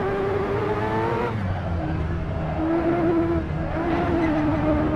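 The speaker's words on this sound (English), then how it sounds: "I think it's the Porsche 908." Porsche 908 race car engine in Assetto Corsa, a Le Mans racing game, roaring steadily as it revs, with shifts and dips in pitch across the lap and no speech.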